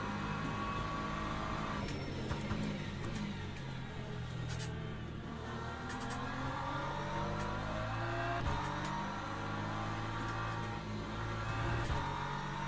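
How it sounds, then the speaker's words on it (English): LMP2 prototype race cars circling the Sebring circuit, heard as layered engine whines rising and falling as several cars pass at a distance, steady throughout with crowd-free track ambience. "The LMP2 cars do sound so good."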